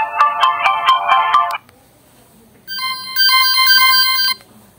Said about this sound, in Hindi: इसकी रिंग भी चेक करते हैं कितनी है, आवाज़ काफ़ी है इसकी और ये आप सुन रहे होंगे